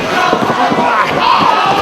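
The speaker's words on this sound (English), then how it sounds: "this crowd in Detroit firing up Homicide" A wrestling crowd in Detroit roars and chants at an ROH event, a dense, loud, continuous swell of cheering voices that fills the arena without a break.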